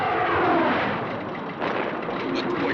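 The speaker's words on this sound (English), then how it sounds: "I'm gonna buzz him. The slipstream from my jet should give him a thorough shake-up." A jet aircraft buzzes low past an old plane, a loud rushing roar that swells and fades over a couple of seconds, with no talk.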